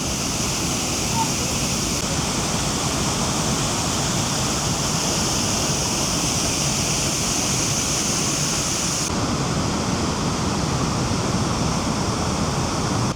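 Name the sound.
waterfall at Jägala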